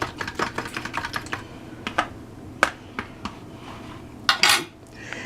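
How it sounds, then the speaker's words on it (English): A keto French toast mixture stirred in a bowl: rapid close clicking and tapping of a utensil against the bowl in short bursts, with brief pauses and no talk. "I'm just stirring that up. Making sure it's well incorporated."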